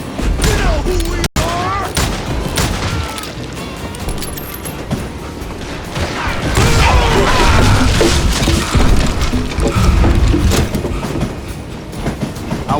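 A moving train in the western shooter Call of Juarez Gunslinger rumbles loudly and continuously, its rolling clatter swelling in the second half, with bursts of gunfire and crashing impacts mixed into the din.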